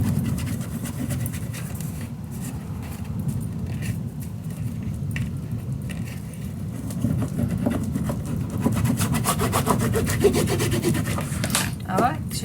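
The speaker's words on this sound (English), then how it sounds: "And burnish it down. Also on the edges." Paper is rubbed and burnished down onto the edges of a handmade Sherlock Holmes themed storage box, a continuous close scraping rub with a few sharper scuffs and taps near the end.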